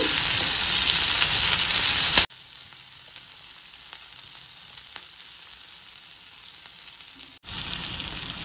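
Green chillies hit a chicken tawa fry in a hot pan, a loud steady sizzle that drops sharply to a quieter simmer for several seconds before flaring loud again near the end.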